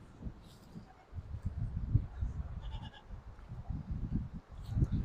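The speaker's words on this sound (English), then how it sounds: "we got our first goats" Nigerian dwarf goats on a first-year homestead farm bleat repeatedly in short, overlapping calls, fairly close and moderately loud, with a busy low rumble of activity between cries.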